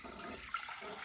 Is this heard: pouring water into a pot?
yes